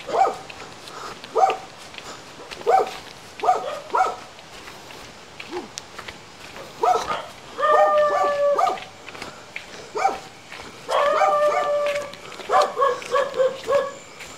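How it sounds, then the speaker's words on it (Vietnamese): Dogs bark at night in a mountain village, several animals trading repeated barks and yips at varying distances, some sustained bouts of higher howling-like yelps, loud and close in places, echoing through the quiet dark. "Trên này có vẻ như chó người ta sủa ghê hết nhỉ."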